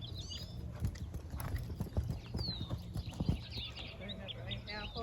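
A gaited horse canters, hooves clip-clopping in a rapid, uneven rhythm at moderate distance, with birds chirping faintly in the background and a person's voice speaking over the hoofbeats.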